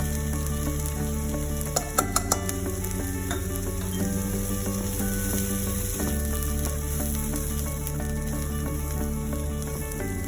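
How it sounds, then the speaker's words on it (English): Besan and oats sauté in a pan over moderate heat, giving a quiet, steady sizzle with a few light stirring taps and no voices. "Saute it well for 1-2 minutes again."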